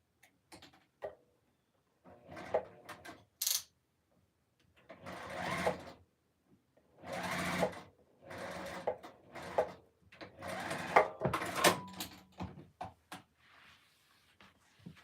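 A sewing machine stitches fabric binding together in several short bursts of whirring needle runs, separated by brief pauses, close and fairly loud with no talking.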